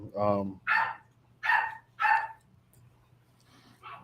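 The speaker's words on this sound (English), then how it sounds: "My dog's losing their shit." A dog barks four times in quick succession, fairly close, with a howl-like opening call and a lingering low hum beneath, then a fainter yelp after a pause.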